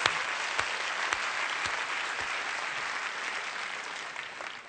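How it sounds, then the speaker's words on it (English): An awards-ceremony audience applauds steadily, a full wash of clapping from a large room that holds fairly even and then gradually thins toward the end. "Yeah, that deserves applause."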